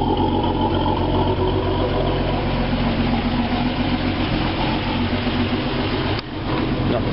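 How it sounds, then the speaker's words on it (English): A 2.6-litre six-cylinder engine in a long-wheelbase Land Rover Series III idles steadily and loudly up close, running slightly rough on the choke, with a brief dip near the end. "A bit choky at the moment, but there you go, running. It's a 6-cylinder."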